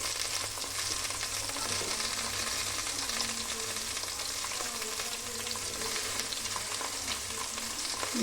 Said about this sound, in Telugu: ఎందుకంటే మనం ముక్కలే మనం ఫ్రై చేస్తున్నాం ఇప్పుడు